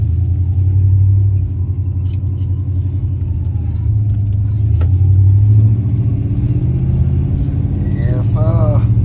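A G-body car with a loose body drives down a residential block, its engine a steady low rumble that swells and eases slightly as it moves, close and continuous throughout.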